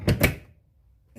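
A latch clicks twice in quick succession on the plastic door of a Porsche-style electric ride-on toy car, two sharp close snaps followed by near silence.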